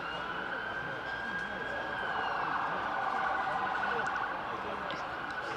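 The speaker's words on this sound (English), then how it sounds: "We've got sirens around the city" Emergency vehicle sirens wail across a city in a sustained, wavering tone, distant but clearly audible over steady outdoor background noise during a cricket match.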